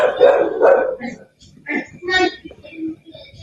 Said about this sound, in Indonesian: Ini bom-bom yang nakal tengah malam masih menggonggong dia.